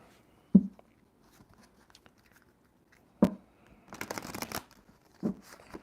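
Cards are riffle-shuffled close by: two sharp snaps, then a rapid fluttering burst and a final tap, with quiet pauses between.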